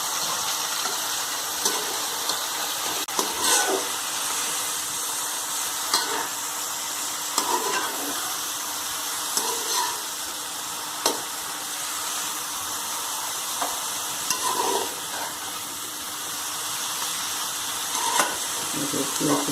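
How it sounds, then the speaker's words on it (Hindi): Bitter gourd (karela) pieces, washed and salted, frying in hot oil in a home kitchen: a steady, continuous sizzle with occasional louder pops and stirring scrapes, close and alone without talk. "इसमें आप करेले फ्राई करेंगे।"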